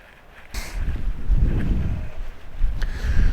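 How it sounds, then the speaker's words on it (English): Gusts of outdoor wind buffet a nearby microphone in a low, uneven rumble that swells and eases over a few seconds, with a couple of faint rustles. "Wind's kicked up."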